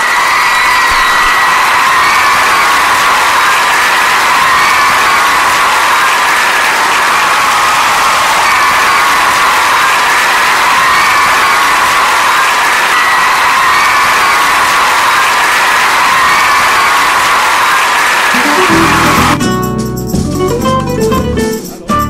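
Loud, continuous applause and cheering from a large crowd is played over a community radio broadcast, a dense unbroken roar of clapping and shouts that cuts abruptly into other sound near the end.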